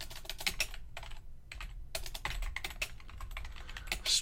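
Someone typing a Javadoc comment on a computer keyboard: rapid, irregular key clicks close by with brief pauses between bursts, quiet and with no talking.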